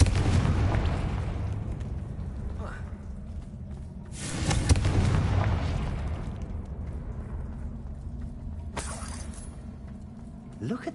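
A Confringo fire spell from the Hogwarts Legacy game goes off as a booming blast over a low rumbling background, followed by further whooshing bursts, with a voice speaking.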